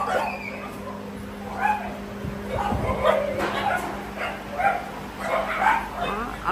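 Dogs at a crowded animal shelter bark, yip and whimper repeatedly in overlapping bursts, close and moderately loud over a steady background hum while a person talks.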